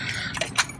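Car keys jangle briefly, a quick close metallic rattle lasting under a second with no talking.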